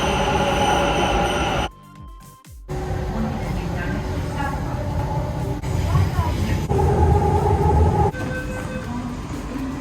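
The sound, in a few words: metro train riding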